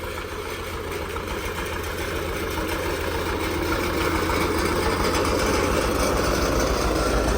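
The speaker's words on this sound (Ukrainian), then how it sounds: "МТ-зончик 80-й, а працює." An MTZ-80 tractor's diesel engine runs at a steady idle, a close, even low rumble with a constant throb that grows slightly louder midway, and no voices over it.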